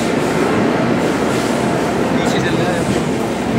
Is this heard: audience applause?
no